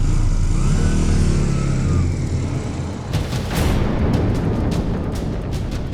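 A motorcycle engine revs up close with a rising, wavering drone for about two seconds. It is followed by a run of sharp, loud bangs and rumbling noise.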